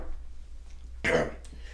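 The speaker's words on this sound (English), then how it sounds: "hold on, I need to clear my throat" A single short throat-clearing burst from a man in a quiet room, close and moderately loud, with silence before and after.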